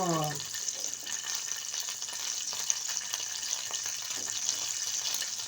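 Ginger garlic paste frying in a pan for chapathi pasta, a steady close sizzle with occasional stirring scrapes, no talk.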